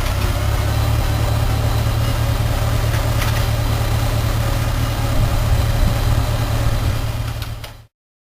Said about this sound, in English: Crank the engine by giving one direct pull up on the crank handle.